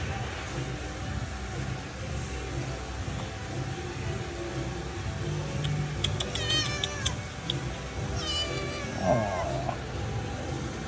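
A cat meows a few times at a cat bar on Cat Ba Island, Vietnam, over a constant busy room hum and background noise, with faint voices around.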